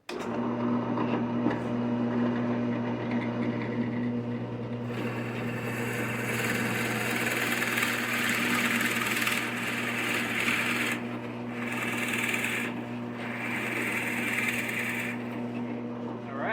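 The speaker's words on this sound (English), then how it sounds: "While I'm drilling this one, I'm also going to drill this one" A power drill whines steadily into wood, with its pitch rising and dropping in bursts as it bites and pauses.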